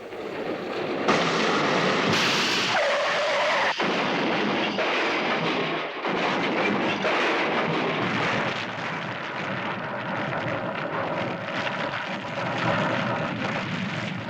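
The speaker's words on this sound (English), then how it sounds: "A tire burst and crash" A car tire bursts, then the vehicle skids and crashes, heard as a loud, dense roar of tearing noise with sharp bursts, sustained and near throughout, with no talk.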